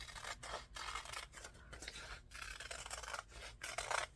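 Scissors cut a heart shape out of magazine paper, a close, quiet series of crisp snips and papery rustles repeating in an uneven rhythm, with no talking.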